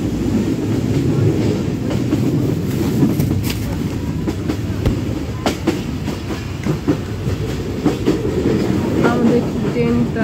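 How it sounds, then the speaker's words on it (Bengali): A passenger train bound for Sylhet rolls along in a steady, close rumble, heard from on board, with rhythmic clickety-clack of wheels over rail joints throughout. "আমাদের ট্রেনটা সিলেটের উদ্দেশ্যে রওনা দিল।"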